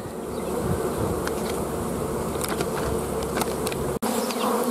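Honey bees drone around an open hive being checked for mites, a dense, continuous buzz close to the microphone with individual insects flitting past and a brief dropout near the end.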